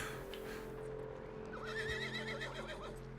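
A horse whinnies in the Red Dead Redemption II video game, a loud rising neigh over a steady hum of game ambience and background music.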